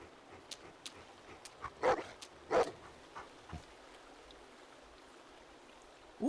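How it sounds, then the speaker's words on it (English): A dog in The Walking Dead: Definitive Edition video game gives a few short, fairly quiet barks and yips spaced across a few seconds, over a low ambient background with no talk. "I like having a dog."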